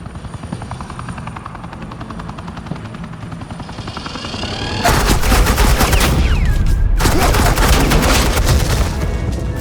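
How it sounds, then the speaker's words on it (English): Suppressing gunfire in the game Batman The Enemy Within: a loud, continuous automatic barrage with a helicopter's throbbing rotor underneath, swelling into a dense, heavy volley. "This is Agent Quinn, suppressing fire."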